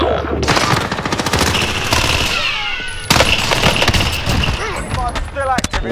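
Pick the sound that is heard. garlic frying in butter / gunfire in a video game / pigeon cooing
gunfire in a video game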